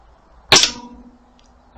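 Air rifle firing Sovereign pellets at a target, one sharp loud crack with a short ringing tail, followed by the onset of a second impact at the end.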